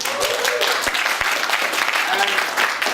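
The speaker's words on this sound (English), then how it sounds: "Round of applause, Brenda Benz." Keynote speakers master class audience applauding a mentor, a dense steady wash of clapping from a room of people, moderately loud throughout with some voices mixed in.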